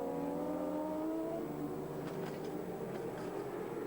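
Racing motorcycle at the 1997 Bol d'Or endurance race, engine roaring steadily at high revs with a falling pitch as it passes.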